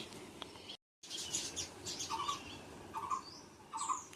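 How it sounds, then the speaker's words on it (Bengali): Birds call faintly from a jamun tree outside a village home. Soft chirps and twitters are scattered through the clip, and a repeated short call sounds three times at an even pace, all fairly distant and quiet. "জাম গাছে পাখিগুলো ডাকছে খুব সুন্দর ডাকছে"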